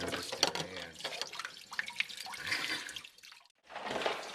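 Sandy seafood for a frutti di mare marinara being rinsed in a kitchen sink, running and splashing water with sloshing handling, a brief pause, then water rushing again.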